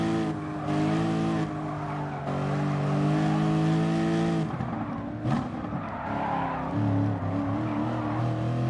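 A race car engine revs and drones in a racing video game, a loud sustained whine that climbs and shifts pitch with gear changes, plus a brief tire screech toward the end.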